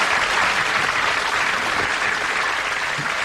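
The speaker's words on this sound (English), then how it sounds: "I would like a moment of tumultuous applause" Dense, steady applause from a large studio audience at a British comedy radio show, a continuous roaring wash of many hands clapping at once, loud and sustained throughout with no talking.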